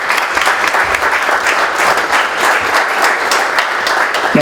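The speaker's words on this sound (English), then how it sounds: "We should have applause for the gentleman." Steady, dense audience applause fills an indoor reception honoring an ambassador, many hands clapping continuously at even loudness with little voice mixed in.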